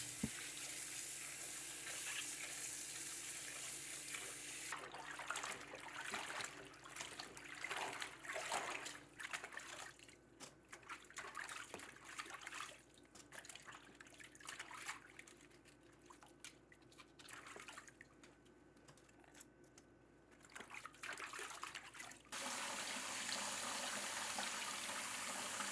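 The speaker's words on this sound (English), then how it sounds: "place the stems in the water, and rinse them individually to remove any dirt or debris" Pak choi stems being rinsed one by one in a bowl of cool water, with soft close splashes and drips continuing alone.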